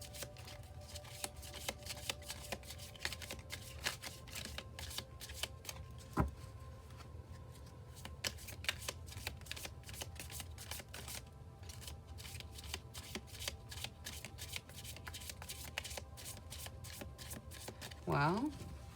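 Tarot wisdom cards are shuffled and handled in a steady, rapid riffling patter that stays close and fairly quiet, ending in a brief shuffling flourish, with faint talking underneath.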